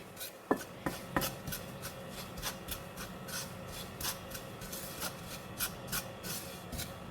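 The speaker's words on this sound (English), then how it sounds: "You have to consistently stir or else it will burn at the bottom." Grated coconut toasting in a pan for kerisik, scraped and stirred steadily with a utensil, giving soft repeated rasping strokes and dry scratchy sizzling at an even pace, fairly quiet, with a few sharper knocks at the start.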